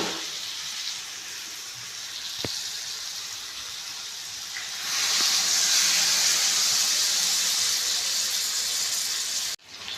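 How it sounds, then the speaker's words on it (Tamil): Dissolved tamarind water is poured into a pan of Chettinad pumpkin curry, a steady hissing, gushing pour that grows louder midway and then cuts off abruptly near the end. "இப்போ புளி கரைச்சி ஊற்றிக்குவோம்"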